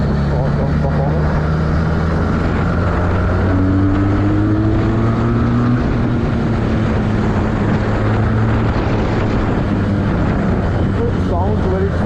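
Benelli 302R twin-cylinder motorcycle with stock exhaust and an aftermarket air filter, a steady loud engine drone with a smooth rising pitch as it revs, heard up close throughout with someone talking over it.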